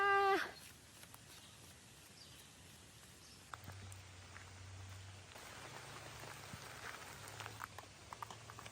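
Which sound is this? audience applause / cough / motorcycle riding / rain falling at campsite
rain falling at campsite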